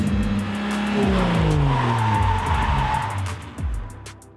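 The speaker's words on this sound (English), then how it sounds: "Now we've got an example of an oversteer, which in nature is drifting." A car's tires squeal and skid continuously through an oversteer drift while doing donuts, the engine droning underneath, loud and close for several seconds with no talk.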